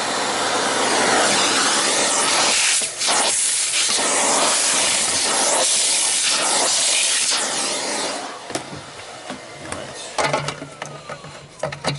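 A Sharp Energy upright vacuum with a stamped sheet-metal tray runs with a loud, harsh, steady roar, then grows uneven near the end with rattling and clattering.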